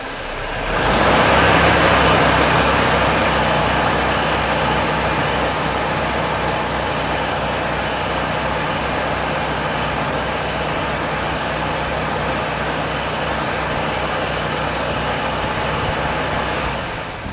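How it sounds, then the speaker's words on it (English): Engine of a 1992 Mercedes 190E 2.0 with KE-Jetronic injection held at a steady 2000 RPM, a loud continuous hum and rumble that rises at the start and stays even throughout, with no one talking. "Now I'm going to rev it for 2000 RPM."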